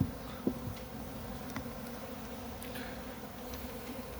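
Honeybees drone steadily from an open hive during autumn preparation for winter, a low constant hum heard close by with a few faint ticks and knocks and no talking.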